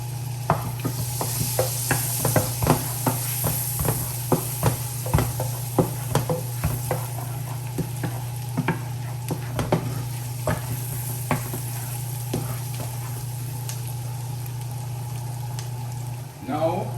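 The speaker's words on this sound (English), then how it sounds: "I'm just gonna allow it to saute while the butter is melting" Garlic sautés in melting butter in a pan for creamy Tuscan chicken pasta. A continuous crackling sizzle is dotted with many small sharp pops and occasional utensil taps, over a constant low hum.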